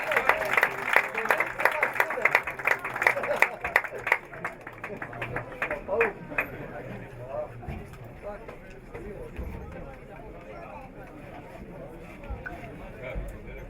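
Spectators at a football match between Zorya and NK Maribor clap after the opening goal, a brisk patter of hands that fades over the first few seconds beneath a commentator's voice.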